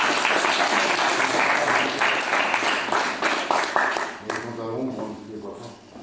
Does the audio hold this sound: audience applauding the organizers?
yes